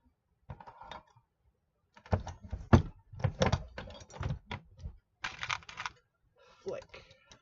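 A Dillon 550B progressive reloading press cycling a round: a series of close mechanical clunks, clicks and metallic snaps in uneven bursts as the handle goes down and back, the primer seats and the shell plate flicks, with brief pauses between.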